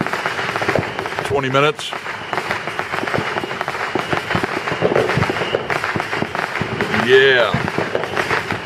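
Fireworks set off by neighbors crackle and thump repeatedly throughout at moderate distance, with a few whistling rising shots, while people talk over the bursts.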